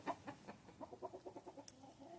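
Farm chickens clucking in a quick uneven series of soft calls, fairly close, with a brief higher squawk near the end and no talk.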